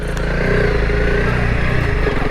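Honda CRF 300L Rally motorcycle engine running while riding, a steady close droning hum at constant throttle with rumbling low tones and no speech over it.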